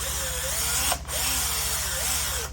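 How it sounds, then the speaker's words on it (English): A power drill whirs steadily up close, pausing briefly midway before resuming its high, continuous whine into the material. "drill your pilot hole"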